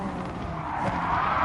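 A race car in Gran Turismo Sport brakes hard from very high speed, and its tires let out a sustained, loud skid and squeal with engine noise underneath.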